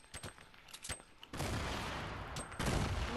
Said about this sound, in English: Oh my god, are they shooting?